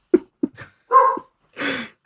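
A dog barks and yips in a quick irregular series: two short sharp barks, a longer whining bark, then another drawn-out bark, loud and close with brief silences between.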